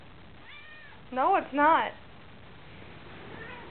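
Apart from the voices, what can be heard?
cat meowing indoors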